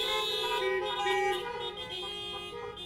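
Car horns honked by a congregation gathered in their vehicles, several overlapping steady toots blending together at moderate distance for about three seconds, with faint voices mixed underneath.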